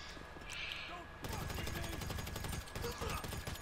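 Gunfire in GTA V Online during a heist preparation mission: a quiet lead-in, then rapid bursts of shots that continue to the end, loud and close.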